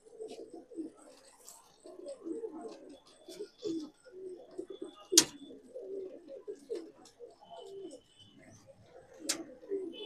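Punjabi madrasi pigeons coo close by in repeated soft, throaty bursts, several birds overlapping, with a couple of sharp clicks and faint chirps in between.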